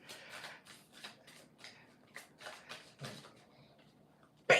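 A deck of cards is shuffled in a quiet room, a series of soft riffling bursts and flicks in an irregular rhythm, close and fairly faint, ending with a sharper snap.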